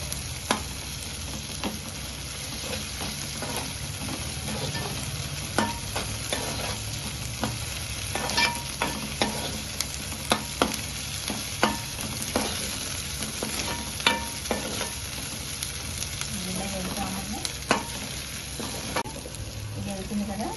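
Onions and ginger garlic paste frying in oil for a mutton curry with raw mango, a continuous crackling sizzle under frequent sharp scrapes and taps of a spoon stirring the pan, close and steady throughout.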